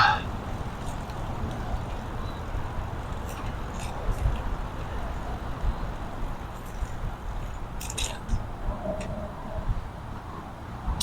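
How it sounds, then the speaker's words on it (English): Distant car traffic on roads near a flowing creek, heard from a recumbent bike ride toward Manitou Springs: a steady low rumble and wash with occasional faint higher ticks, moderately quiet and continuous throughout. "And you can still hear the cars, but not quite as bad."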